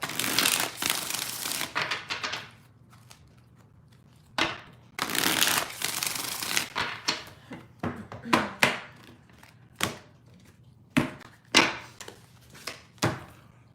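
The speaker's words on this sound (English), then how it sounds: "Two more shuffles, two more." A deck of tarot cards being shuffled in repeated bursts of riffling, followed by a series of sharp, separate card snaps and taps, close and clear.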